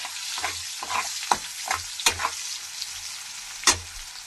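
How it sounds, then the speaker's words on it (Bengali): Onions sizzle steadily as they fry in a pan for a rohu fish curry, with a run of sharp stirring scrapes and clicks cutting through the hiss; no one talks. "মশলাটা পেঁয়াজটা ততক্ষণে লাল লাল করে একটু ভাজা হোক।"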